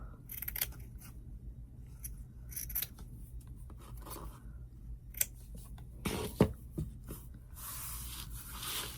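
Scissors trimming appliqué fabric on a kitchen towel, with short snips and rasping cuts in scattered bursts, quiet and close, separated by brief pauses of near silence.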